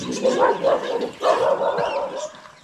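A dog barks and yips a few times nearby, short muffled bursts with a faint whine between them.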